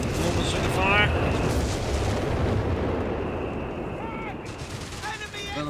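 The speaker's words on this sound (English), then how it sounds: "More bazooka fire." Bazooka fire amid battle in Company of Heroes 3, a dense rumbling wash of blasts and booms with whistling projectile sounds overhead, continuous and loud throughout.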